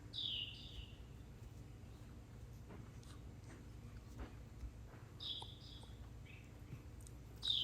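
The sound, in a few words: bird chirping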